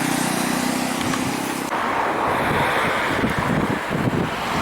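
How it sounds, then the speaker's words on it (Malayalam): Steady, loud wind buffeting the microphone during a bicycle ride near Kumarakom, Kerala, a continuous roaring rumble with gusts throughout. "നല്ല കാറ്റുണ്ട്"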